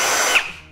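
A Dekton power drill whirs loudly at close range, its high motor whine dropping away within a second as the anti-kickback stop cuts it off abruptly.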